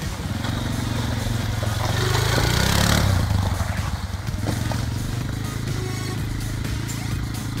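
Quad bike ridden along a muddy mountain trail in the Carpathians: a loud, continuous engine roar mixed with clattering and splashing, swelling briefly as the bike climbs, heard close throughout.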